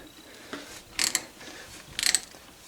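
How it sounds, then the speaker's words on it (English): A ratchet wrench turns a 3/4 inch socket counterclockwise while an AN fitting is fitted onto braided stainless fuel line, giving two close, loud bursts of quick clicking a second apart with fainter ticks between them. "You're going to take that on your ratchet and turn it counterclockwise"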